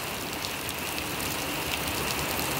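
Steady rain falls in a dense, even hiss with no breaks, close and moderately loud, and no voices.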